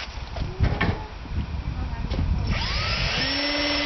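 A power drill fitted with a grinding head whirs and grinds against steel, with scraping bursts and then a steady high whine as the motor spins up.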